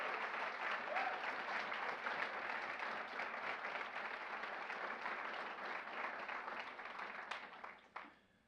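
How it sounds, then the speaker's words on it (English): Another round of applause fills a college hall for the finalists of a student speech showcase: sustained, even clapping from a sizable audience that carries on for several seconds before quickly tapering off. "Can we give another round of applause for all of our finalists that presented tonight?"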